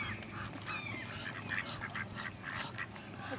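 Mallard ducks quack in a busy, overlapping chorus at a park feeding spot, steady and moderately near over a constant outdoor background, with no voices.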